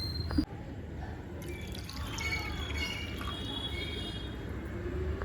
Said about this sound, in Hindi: अब हम इसी पैन में 2 कप दूध डाल देंगे